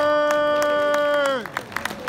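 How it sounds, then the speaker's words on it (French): An audience at a song contest in St Amand begins clapping for a singer just as a long held note ends, with a few sparse, nearby claps building over the last moments. "l'applaudir encore plus fort que ça s'il vous plaît"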